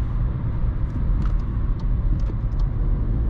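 A car engine held at a 6000 rpm rev limiter drones with a heavy, steady low rumble from inside the cabin, straining continuously with faint ticks and rattles above it.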